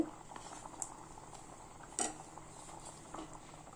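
Mushroom and potato curry simmers in a pot, giving a quiet bubbling patter up close, punctuated by a few light clinks of a utensil against the pot.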